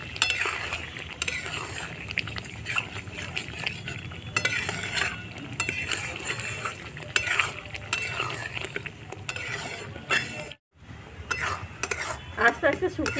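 Mashed ridge gourd is stirred in a pot with a spoon so it does not stick, giving steady close scraping and faint frying sizzle. Metal clinks repeat throughout, and there is a short pause near the end.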